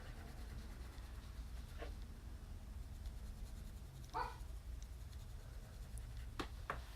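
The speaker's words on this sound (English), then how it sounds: "Sorry about my dogs barking." Dogs bark a few times at a distance, brief yips over a steady background hum, with no one talking.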